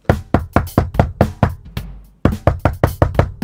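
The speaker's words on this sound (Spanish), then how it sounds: "suena la puerta." A cartoon door knock: quick bursts of sharp, close, loud raps on a wooden door, one group of knocks, a brief pause, then another.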